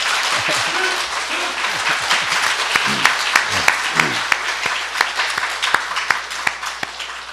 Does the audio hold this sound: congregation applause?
yes